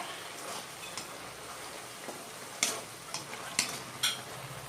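Salted mushroom gravy being stirred in a pan: soft, scattered scrapes and taps of a spoon over a low, steady simmer, with a few sharper knocks near the end and no talking.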